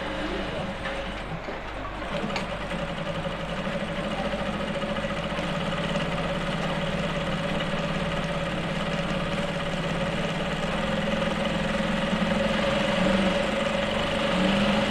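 A sewing machine runs a double row of top-stitching along a flap on a senator top, giving a steady, close, continuous mechanical whir that holds an even level for the whole stretch with no pauses.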